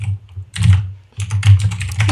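Brisk typing on a new computer keyboard, close and loud, in two bursts of rapid clicky keystrokes separated by a short pause.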